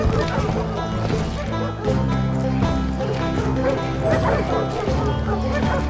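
Attacking dogs bark and yip in rapid, overlapping bursts over loud game music in the Western shooter Call of Juarez: Gunslinger, with whimpers and hoof clatter in a dense, busy mix and a voice talking now and then.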